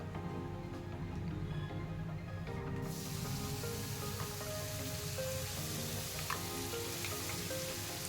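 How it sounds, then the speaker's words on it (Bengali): Pointed gourd paste hits hot oil in a pan, setting off a loud, steady broadband sizzle that continues throughout, with faint clinks of a utensil near the end. "এই যে দেখুন পটল বাটাটা আমি এর মধ্যে অ্যাড করে দিলাম"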